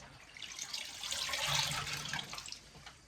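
Water runs from a tap into a pot of uncooked rice for washing, a steady splashing stream lasting a few seconds, close and fairly soft with no talking.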